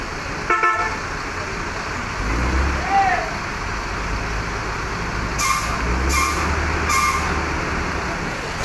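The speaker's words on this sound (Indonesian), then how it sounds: "Bis ALS Nopin 248 diberangkatkan menuju Kota Medan." An ALS intercity bus, number 248, departs for Medan: a low diesel engine rumble rises as it pulls away, with a short horn toot near the start and a few bright air-brake hisses later, under faint talk.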